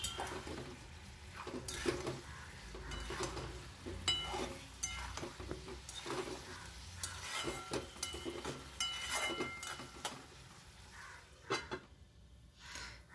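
Fish heads and potatoes cooking in a covered pan over medium-low flame give faint sizzling, with scattered clinks and scrapes of a utensil against the pan, quiet and close.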